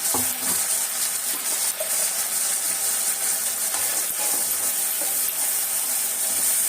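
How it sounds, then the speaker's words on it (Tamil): Ground coconut paste poured into a simmering pot of puli kuzhambu, a tamarind curry: a steady, close hiss of sizzling and bubbling with faint stirring scrapes throughout, and no talking. "தேங்காய் ஊற்றுறேன் நான்."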